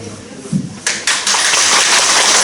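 A Korean stage audience breaks into dense, sustained clapping after a brief quieter moment with a faint voice, the clapping swelling and holding steady to the end.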